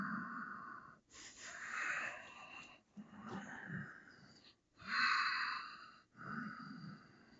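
Slow, deep breathing while holding a warrior two yoga pose: five or six long, close, soft inhales and exhales with brief pauses between them, audible and unaccompanied.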